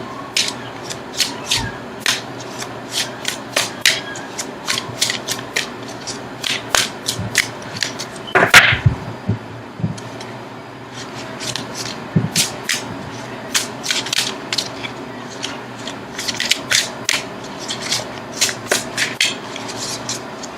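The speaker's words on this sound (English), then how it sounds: "now I'm going to shuffle for an outcome card" Tarot cards being shuffled by hand, a rapid series of crisp riffling and slapping bursts in irregular clusters throughout, close and alone with no talk.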